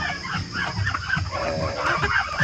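Chickens cluck steadily around a fenced farmyard, several birds overlapping in a busy, continuous chatter at close to moderate range, with a faint crow-like call mixed in and no talking.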